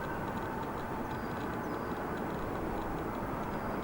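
Iberia airliner taxiing across a runway at Chicago O'Hare airport, a steady, even jet engine rumble heard at a distance with no breaks and no talk.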